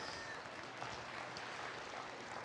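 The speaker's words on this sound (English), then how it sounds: "Congratulate her with a round of applause, would you?" An audience at a Colorado State Fair market beef showmanship show applauds the champion senior showman, a faint, even wash of clapping from a distant crowd.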